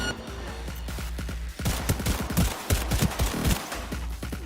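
Gunfire from the Skippy gun in Cyberpunk 2077, a rapid burst of sharp shots in quick succession over a low droning game background, loud and punchy after a quieter opening.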